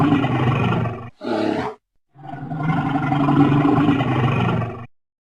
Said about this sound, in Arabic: دب،